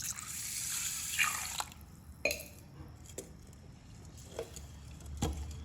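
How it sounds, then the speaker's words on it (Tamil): A short burst of water pouring onto rice to soak, followed by several scattered drips and small splashes in a quiet room, close by. "இப்போது தண்ணி ஊற்றி ஊற வச்சுக்கலாம்."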